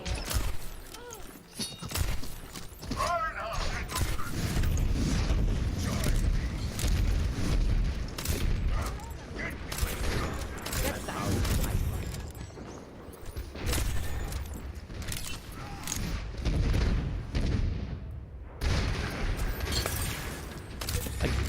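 Dense gunfire and repeated booming grenade blasts from an Overwatch match, loud and continuous, with rattling volleys and heavy thuds layered on top of each other and barely a pause.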